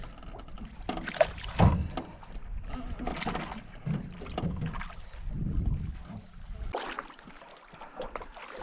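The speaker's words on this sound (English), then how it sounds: "The switch paddle actually works really good for trolling, because as I switch sides, the direction's gonna change on the lure" A canoe is paddled with a switch paddle while trolling on Batchewaung Lake in Quetico Park. Soft, uneven water swishes and splashes recur every second or so, close by, with faint wind in the background.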